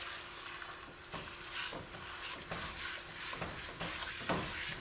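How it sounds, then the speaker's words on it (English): Sausage browns in a hot pan with a faint, close sizzle and soft scraping stirs breaking the meat apart, a low continuous crackle punctuated by occasional louder pops. "All we care about is cooking the sausage"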